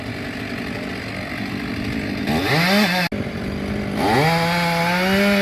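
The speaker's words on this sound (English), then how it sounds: "He switched out chainsaws to get the long bar." A chainsaw drones steadily, then revs up twice into a higher whine as it bites into tree wood during tree removal, loud and close.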